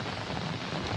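Steady rain that has been falling all night in a farming village makes an even, continuous hiss, moderately close and unbroken, with no voices.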